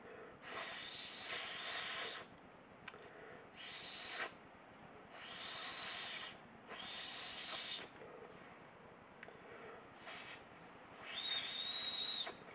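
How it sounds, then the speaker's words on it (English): A small carved willow whistle is blown in a series of airy, breathy toots of varying length, close up, with pauses between them. "let me try this again, see if I get a good whistle out of it"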